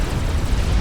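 A nuclear blast in the strategy game Forged Alliance Forever, heard as a brief, loud, low rumbling roar that holds steady for under a second.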